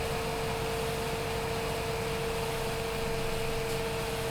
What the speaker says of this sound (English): It's not a very big tractor.